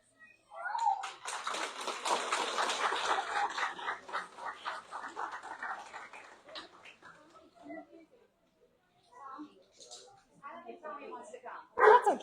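Daisy, a newly graduated service dog, whimpers and gives short barks amid a noisy ceremony crowd, with people talking nearby and the dog's sounds breaking through in bursts before a quieter stretch.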